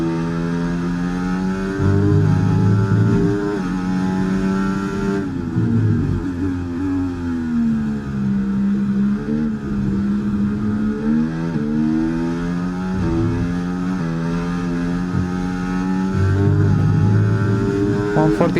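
The Williams FW46 Formula 1 car in F1 2024 screams through a practice lap at the British Grand Prix, its high engine note climbing and dropping sharply through upshifts and braking, loud and continuous with no talk.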